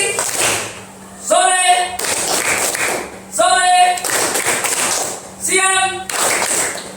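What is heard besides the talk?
group clapping hands in a clap routine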